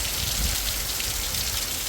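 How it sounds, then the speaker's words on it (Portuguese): Steady rain falls across a rural district in Arapuá, Mato Grosso do Sul, arriving after strong wind and dust, a dense even hiss of drops on surfaces, fairly close and uninterrupted, with no talking. "Agora chega a tão querida chuva que os sitiantes e fazendeiros vêm pretendendo há muitos dias"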